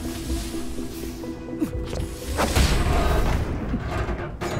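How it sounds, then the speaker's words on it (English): A rocket launches and blasts with a deep boom and rumbling tail in the Borderlands: The Pre-Sequel game, loud and close, amid game noise. "I used a rocket"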